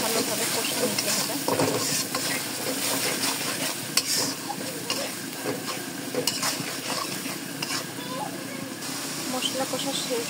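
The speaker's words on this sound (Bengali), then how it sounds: "তারপর মশলাটাকে ভালোভাবে কষে নিতে হবে।" Spice masala fries and is stirred in a pan for a bottle gourd greens dish, giving a continuous close sizzle and hiss with scraping stirs, while a person talks over it.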